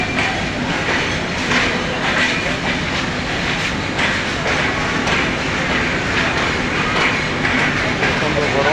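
A train runs on rails with a steady loud rumble and rhythmic wheel clatter, heard from on board as it travels from an airport railway station toward Cox's Bazar.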